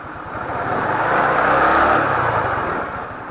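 A Rusi scooter engine is revved to check its charging output, a single rising and falling rev with a rough buzzing drone that swells in the middle and eases off, close by.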